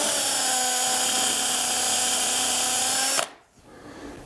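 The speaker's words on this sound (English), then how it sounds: "So I've set up a piece of tape on my drill so I know how deep to drill these holes." A power drill bores a hole in wood for an art clock, giving a loud, steady, high whine for about three seconds. Then it stops abruptly and a faint whir trails off, with no talk.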